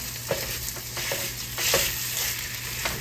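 Regular pork sausage sizzles in a pan while being mashed and crumbled, a close steady fry broken by a few scraping stirs and pushes of a utensil, with no voices.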